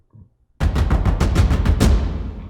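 Booming cinematic drum hits in quick succession, loud and heavy with deep low-end, building into a dense rumble after a brief quiet start.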